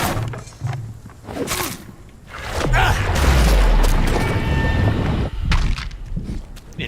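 Explosion in the Vampyr game, a heavy low boom that swells and rumbles for a couple of seconds after scattered thuds and impacts, with brief voices around it.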